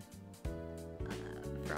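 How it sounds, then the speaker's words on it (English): Frogs croak in a steady chorus of deep, rhythmic pulses, loud and close, with no voices over them. "Frogs, maybe?"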